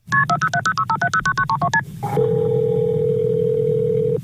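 A telephone keypad dials a 911 emergency call: about a dozen quick, loud touch-tones in a rapid run, then a steady connecting tone that holds to the end.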